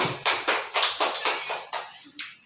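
A class group claps in rhythmic unison, about eight sharp, evenly spaced claps close by, slowing and thinning toward the end.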